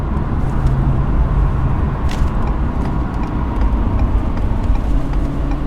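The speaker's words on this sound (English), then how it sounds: "I can hear the diesel exhaust brake coming on" A loud, steady diesel engine rumble from a 2021 Ford F-450 Platinum with its exhaust brake engaging while towing on a 6% grade, with no pauses or talk.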